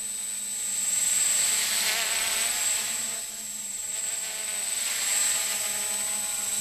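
A tiny 6.5-ounce mini quadcopter drone buzzes steadily in flight, a high insect-like whine that swells and fades slightly as it hovers nearby.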